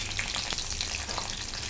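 Tempering of asafoetida, green chillies and peanuts in hot oil for a dill and spinach pithla, a dense, close, continuous crackling sizzle with no talk.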